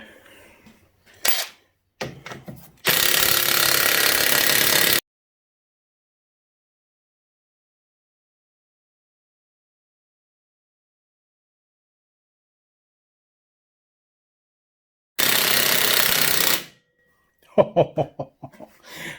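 Impact wrench removing parts from a Suzuki DR200 donor bike in a shop: two loud, sustained rattling bursts, about two seconds each, separated by a long silence, with brief clanks and knocks around them.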